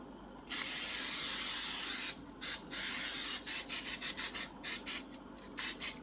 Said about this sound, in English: Take my non-stick spray.